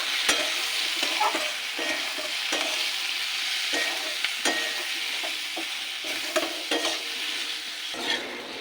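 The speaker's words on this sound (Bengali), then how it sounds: "কষিয়ে নেব" Ground turmeric, cumin, coriander and chilli powder with salt are stirred and fried in a pan for dal chilli curry, giving a steady close sizzle punctuated by repeated scraping and clinking strokes of a spoon.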